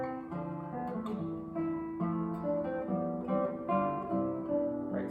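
A classical guitar plays an early nineteenth-century style cadence, plucked chords and a melodic line moving in thirds, close and clear with gentle decays and no talking.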